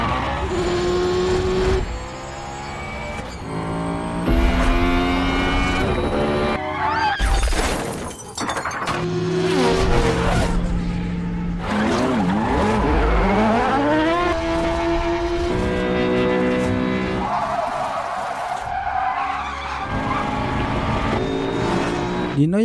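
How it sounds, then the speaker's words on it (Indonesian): Race cars in a Need for Speed street race on a public road scream past with high revving engines, tire squeals and crashing, shattering impacts, loud and dense with rapid gear changes. "Balapan di jalan umum itu berlangsung dengan seru."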